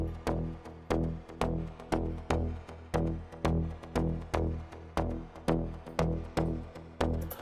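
A bouncy Afro tech synth pattern from the Beach Plug preset of FL Studio's stock Flex synth plays in E, with punchy plucked chords repeating in a steady, even rhythm, loud and alone.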